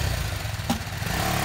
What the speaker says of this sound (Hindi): ये देखो हमारी बाइक रेडी हो गई है जाने के लिए, अभी हम निकल रहे हैं।